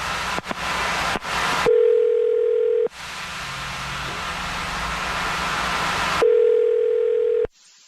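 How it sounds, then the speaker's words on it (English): A telephone dial tone hums steadily while a number is being called, the continuous tone broken by brief clicks and gaps as the line shifts, loud and close. "I'm going to dial his number right now."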